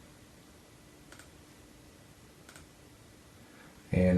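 A computer mouse gives two faint, quick double-clicks a second or so apart in a quiet room, followed by a sudden louder burst at the very end.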